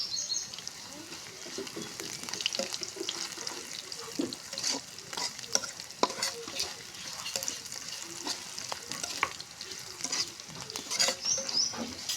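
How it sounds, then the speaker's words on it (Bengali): Panch phoron spices sizzle and crackle in hot oil, a soft, steady frying hiss dotted with small pops that runs the whole time with no one speaking. "একটু 5 ফোড়ন দিলাম।"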